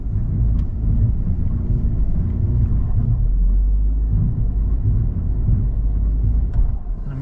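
Ford Bronco Sport driving off-road in slippery mode, a steady low engine and tyre rumble heard from inside the cabin at moderate level, with faint knocks from the terrain and no talking.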